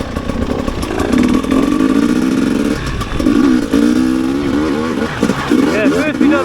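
Enduro dirt bike engine revving and shifting pitch up and down on an easy off-road trail loop in South Wales, loud and close throughout with repeated throttle bursts.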